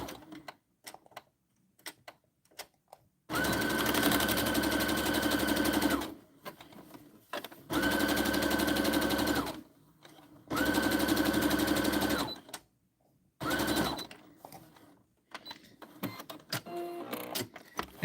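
A sewing machine stitches a Christmas tree gift bag in three long loud bursts of steady whirring, separated by pauses with soft handling noises, then a shorter final run.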